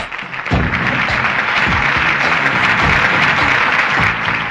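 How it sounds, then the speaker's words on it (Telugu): A crowd claps loudly and steadily at a prize presentation, a burst of applause that continues evenly throughout. "క్లాప్."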